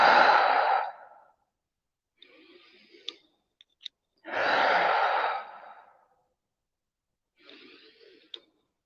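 Two long, close breaths are drawn in through the nose and pushed out through the mouth, with quieter breathing and small clicks in the silent gaps between them during a guided meditation.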